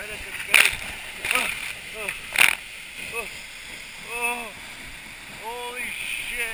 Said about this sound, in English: This is just the force of the water hitting the ground.